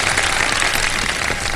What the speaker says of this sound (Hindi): हमारे कंटेस्टेंट्स के लिए बहुत सारी तालियां।